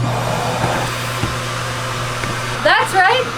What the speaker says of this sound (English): they have a vacuum built into the wall